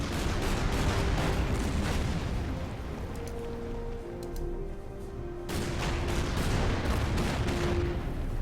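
Artillery bombardment rumbles through a Bougainville battle in the strategy game Order of Battle, with US Marines in the fight: a dense, continuous roar of blasts and gunfire that thins briefly midway, then surges back loud.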